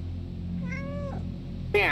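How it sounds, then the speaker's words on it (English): A cat in the video game Stray gives a short, clear meow, followed by a brighter second meow near the end, over a quiet low hum. "did you guys see the cat that got the credits for making all the cat noise?"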